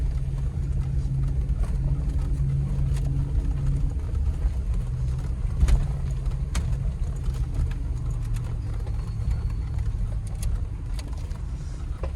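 A supercharged engine in a 2008 Range Rover Supercharged drones steadily as the vehicle climbs off-road inclines in the woods, a continuous low rumble heard from inside with a faint whine and a brief thump partway through.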